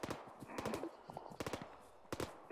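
Quick bursts of machine gun fire crackle in a combat scene in the video game Arma 3, several short rattling volleys at moderate distance with faint voices underneath.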